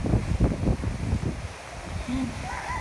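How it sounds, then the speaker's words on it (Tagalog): Strong typhoon wind buffets the microphone with a rough, gusty roar, loudest at first and then easing into a steady rush. "Sobrang lakas pa rin ang hangin."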